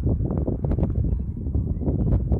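Wind buffets the microphone during an outdoor drone flight: a steady, close, low rumbling gust noise that fills the whole stretch with no clear voices.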